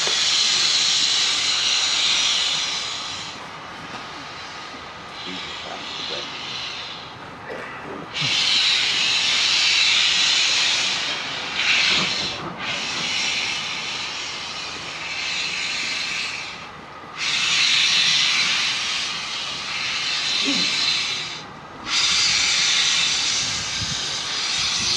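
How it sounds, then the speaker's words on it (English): A loud, steady hissing roar of a steam freight train passing through a station on the Mid Hants Railway without stopping, swelling and dipping in waves over about twenty-five seconds, with no talking. "please stand well back from the platform edge as the freight train comes through the station"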